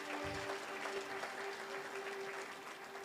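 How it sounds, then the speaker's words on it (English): A crowd at an International Anti-Corruption Day event applauds again for a performer, giving a quiet but continuous wash of clapping over a faint steady hum. "A round of applause for him again."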